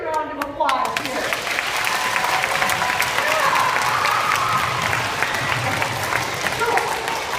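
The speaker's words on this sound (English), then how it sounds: "Let's give these guys a round of applause here." Loud audience applause and crowd noise at a charity event swell after a brief pause and hold steady as a dense wash of clapping, with some voices mixed in.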